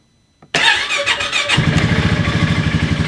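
A Ranger utility vehicle's engine cranks and catches after its battery is charged, starting with a brief squeal and settling into a loud, close, rhythmic idle that pulses steadily.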